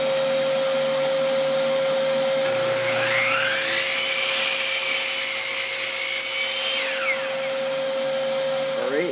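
A miter saw fitted with a dust collection improvement cuts through wood: a loud, steady motor whine with a constant high tone, then a rising, grinding cut through the blade in the middle before the motor winds down, with no talk.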